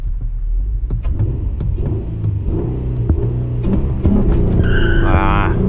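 A manual Acura TL launches hard, its engine rumbling loudly and steadily close by, with a brief high squealing whine toward the end.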